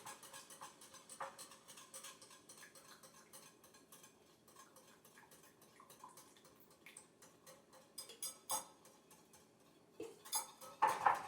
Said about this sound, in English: And just mix this in with the jam.